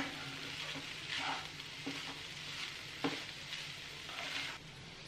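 Poha frying in a pan with a steady soft sizzle, broken by occasional scrapes and taps from stirring, fairly quiet and without speech.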